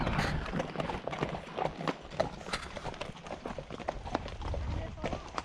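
Horse hooves clip-clop in an uneven rhythm over a trail at Bryce Canyon, close by, with riders talking over the steps.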